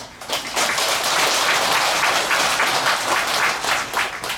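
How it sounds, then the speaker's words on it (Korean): A temple congregation at a Korean Buddhist monthly dharma service applauds the head monk: dense, even clapping that swells quickly, holds steady for a few seconds, then thins toward the end. "귀한 말씀을 해주신 주지스님께 다시 한번 감사의 큰 박수 부탁드립니다"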